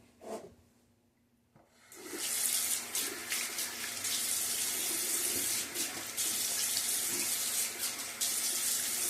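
Water runs steadily from a lever faucet into a bathroom sink after a brief quiet start, a close, continuous splashing hiss as the face is wetted before a shave.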